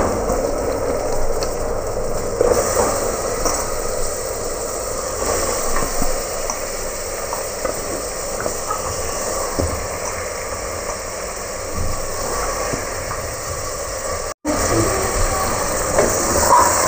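Chicken pieces fry in hot oil with ginger and turmeric for a country-chicken curry, giving a steady, loud hiss and crackle that runs almost unbroken, with a brief dropout near the end.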